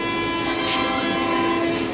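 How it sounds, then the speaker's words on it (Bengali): A Vande Bharat Express train arrives at a station platform, its steady loud rumble and hum continuous throughout with a brighter tonal swell in the middle, no voices heard. "বন্দে ভারত এক্সপ্রেস চলে এসেছে।"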